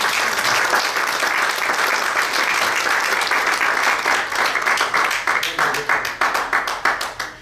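A church congregation applauds during a sermon, dense clapping that thins toward the end into a few distinct, rhythmic claps, with some voices mixed in.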